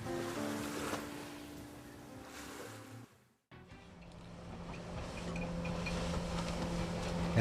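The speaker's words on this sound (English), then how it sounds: "In New Zealand, the boat is sailing just with the Genoa." A MacGregor 26M sailboat sailing under genoa alone off New Zealand, with continuous rushing water washing along the hull and wind noise, broken by a brief near-silent gap before the steady wash resumes.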